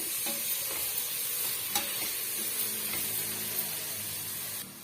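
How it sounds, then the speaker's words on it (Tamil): Coriander and curry leaves sautéing in a pan for kuska rice, a loud, continuous hiss with occasional scrapes from stirring, no voices. "இப்போ கொத்தமல்லி சேர்த்துக்கலாம் கருவேப்பிலை சேர்த்துக்கலாம் சேர்த்துட்டு ஒரு வதக்கு வதக்கி விட்டுருங்க"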